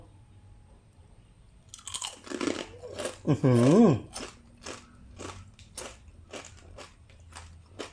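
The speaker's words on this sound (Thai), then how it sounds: "ทีนี้มาฟังเสียง ตอนที่พี่บ่าวเคี้ยวบ้างนะ" Loud, close crunching as someone bites and chews crispy fried chicken skin, a series of sharp crackly bites; a voice briefly murmurs in approval midway.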